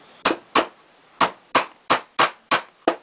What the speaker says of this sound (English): you have to sort of hammer this the rest of the way down